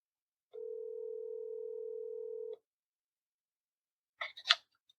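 A single long steady telephone ringback tone sounds for about two seconds during a call placed live on a pool service podcast, followed by silence and then a short burst of clicks and handset noise.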